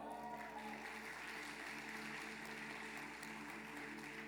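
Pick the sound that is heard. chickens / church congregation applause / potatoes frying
church congregation applause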